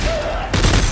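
A gunshot in Dead Space 3 hits with a sharp, loud burst in the second half, after a brief tonal whine, followed by a short rumbling tail.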